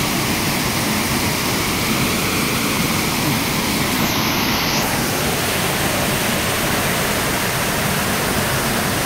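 River water flowing, a loud continuous broadband rush like a cascade that stays steady and close for nine seconds with no talk over it.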